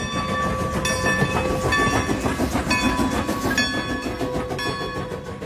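A steam train departs, rumbling past steadily with a rhythmic clatter of wheels, as sharp whistle-like tones sound at intervals over the continuous noise.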